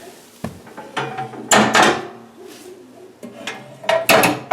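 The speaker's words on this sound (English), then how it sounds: "Got the oven door on." A cast iron oven door is handled and fitted onto a Kalamazoo wood cook stove, giving sharp metallic clanks and knocks at irregular intervals with brief scraping between them, close and fairly loud.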